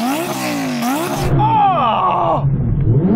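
Audi R8 engine revving loudly during a standstill sound check, rising and falling through several sharp, close throttle blips with a strong sweeping whine.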